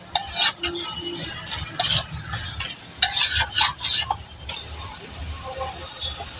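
Vegetables, cabbage among them, stirred in a pot during home cooking, with scraping clinks of a utensil against the pot in short bursts and a low background sizzle.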